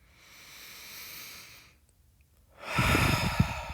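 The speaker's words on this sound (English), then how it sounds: "Inhale to open and exhale to round." During a sweaty no-equipment mat workout modeled on reformer moves, a person breathes in and out steadily, with a soft drawn-out inhale, a brief pause, then a louder, forceful exhale close to the microphone.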